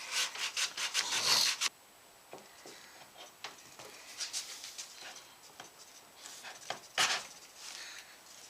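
A small sander works the wood of a guitar neck pocket in rasping, uneven strokes, loud and dense at first, then lighter intermittent scrubbing with short pauses and a sharp burst near the end.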